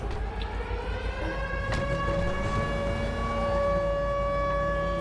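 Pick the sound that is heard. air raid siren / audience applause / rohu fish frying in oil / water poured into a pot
air raid siren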